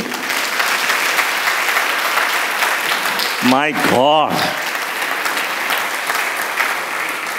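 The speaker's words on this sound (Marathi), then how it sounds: "आणि मग तुम्ही टाळ्या नाही वाजवणार का याच्यासाठी?" Loud, dense applause fills a church congregation hall during a sermon, continuous throughout, with a voice briefly speaking over it in the middle.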